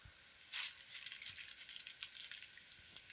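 Boondi drops sizzle in very hot oil over a high gas flame, a steady faint crackling hiss with a brief louder burst near the start and light spatters throughout.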